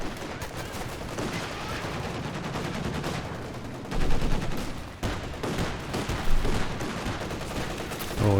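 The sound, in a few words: machine gun fire in Company of Heroes 2 video game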